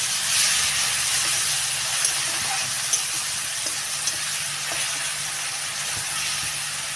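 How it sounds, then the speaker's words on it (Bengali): Onions fry in a pan with added salt, producing a loud, continuous hiss of sizzling oil with a few faint ticks and pops and no voices. "লবণ দিয়ে দিলে পেঁয়াজটা তাড়াতাড়ি ভালো ভাজা হয়ে যাবে"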